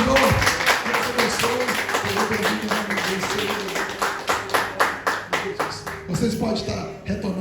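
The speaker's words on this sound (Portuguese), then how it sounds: "Uma salva de palmas, Senhor." Congregation at a church service clapping to welcome a new member, rhythmic claps that grow more distinct and evenly spaced in the second half, with voices mixed in underneath.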